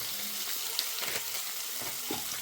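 Spices and chillies fry in oil with a steady, close sizzle and crackle, broken by a few soft stirring knocks and clinks; no one speaks.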